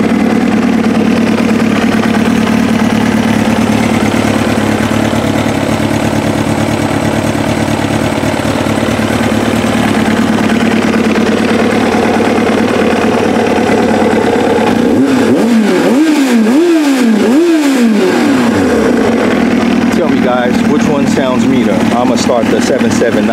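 A Kawasaki ZX7R motorcycle engine idles loudly and roughly close by, then rises and falls through several quick throttle blips before settling back to a burbling idle, with someone talking over it.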